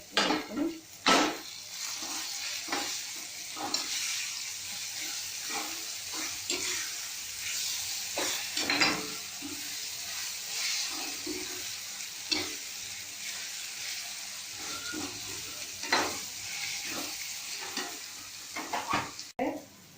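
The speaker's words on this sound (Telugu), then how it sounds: "నేను ఇప్పుడు తురుము పెట్టుకున్న మామిడికాయ తురుము ఇందులో యాడ్ చేసుకుంటున్నాను. కాసేపు వేగనిస్తే బాగుంటుంది." Grated raw mango sizzles and fries in a pan, with repeated scraping and clinking from stirring throughout, close and steady, with no talking.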